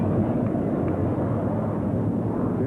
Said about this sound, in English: There was a jet high overhead.